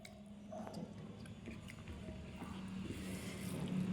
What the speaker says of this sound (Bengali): আমি আলু খাচ্ছি